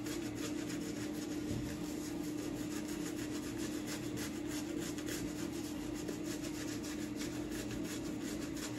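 A shaving brush works oriental-scented shaving soap into lather with very little water, giving a steady, close, scratchy swishing and rubbing that runs without pause.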